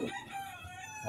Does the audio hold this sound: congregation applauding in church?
no